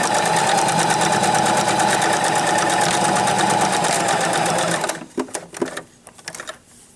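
A sewing machine back stitches fabric for a duck pillow, running in a steady, loud mechanical whir for about five seconds, then stopping and giving way to a few scattered clicks and handling noises.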